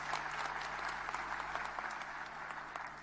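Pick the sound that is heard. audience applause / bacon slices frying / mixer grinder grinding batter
audience applause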